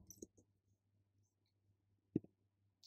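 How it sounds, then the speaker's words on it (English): A handful of soft, sparse key clicks tap out a server password on a computer keyboard in a quiet room, with a cluster of presses at the start and a sharper pair near the end. "So let me type the server's password."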